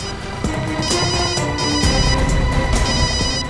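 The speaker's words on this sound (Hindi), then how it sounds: "घंटी तो बज रही है।" A mobile phone rings with a loud, steady electronic ringtone melody that plays continuously and alone for several seconds, in the middle of a murder investigation scene.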